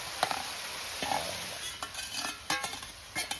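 Ginger paste sizzles in a hot pan for a meat curry while a spoon scrapes and stirs, steady frying hiss broken by several metallic stirring knocks, close up, with no talking.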